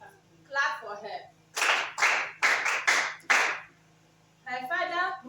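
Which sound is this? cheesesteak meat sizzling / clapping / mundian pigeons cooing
clapping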